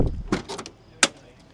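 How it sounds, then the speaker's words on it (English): A 1957 Chevrolet Bel Air restomod's car door clicks open with a brief mechanical creak, then a sharp latch clack, close by in a quiet setting. "Doors open up nicely."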